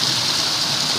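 Rain-swollen water rushes steadily and loudly in a brief, constant hiss, close by, with no voices.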